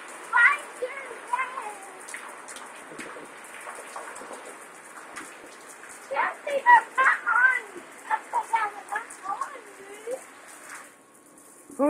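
A rain shower falls as a steady, soft hiss throughout, while people talk intermittently over it.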